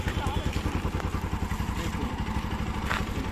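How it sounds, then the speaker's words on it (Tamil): A geared motorcycle pulls away slowly as the clutch is let out, its engine thudding in a steady low-pitched rhythm close by for a few seconds. "கிளச்சை லைட்டாக ரிலீஸ் பண்ணி லைட்டாக மூவ் பண்ணு, கொஞ்சம் தூரம் போ"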